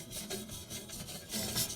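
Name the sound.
scrubbing a rusty shovel with a wire brush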